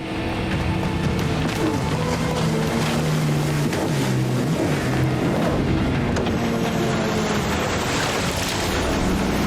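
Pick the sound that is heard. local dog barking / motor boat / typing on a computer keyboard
motor boat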